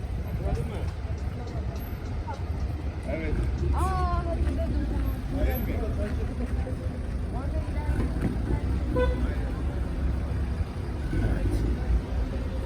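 Heavy road traffic crawls past Akyaka beach in Türkiye, a constant low rumble of engines with passing vehicles, while people talk over it throughout.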